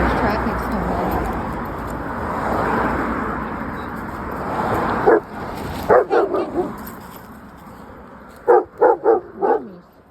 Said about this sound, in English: Look how stupid my dog is.